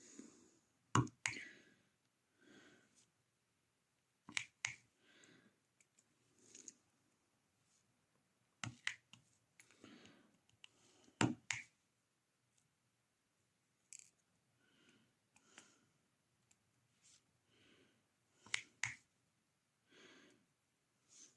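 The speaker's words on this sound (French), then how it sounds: "j'aime bien entendre le clac, clac, clac" Diamond painting drills are pressed onto an adhesive canvas, making scattered sharp clicks and clacks, some in quick pairs, separated by near silence and faint handling noise; close and quiet.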